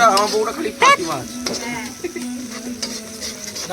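Chicken cooking in a pan at an outdoor winter picnic, with a steady sizzle and the scrape of stirring, while voices chatter nearby over the frying.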